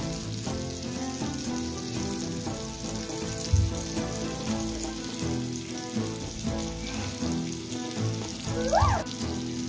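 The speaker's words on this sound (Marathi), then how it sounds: "फ्राय झालेलं आहे. फ्राय कोलंबी आणि बोंबील." Prawns and bombil fish frying in a pan, a dense continuous crackling sizzle that holds steady close up, with a few louder pops and a faint clink, and no one speaking.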